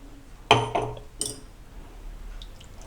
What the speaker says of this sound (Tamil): அரைச்சதை வந்து ஒரு பாத்திரத்தில் மாற்றி வச்சுட்டு